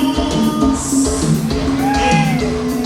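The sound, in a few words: crowd shouting and cheering for the bride and groom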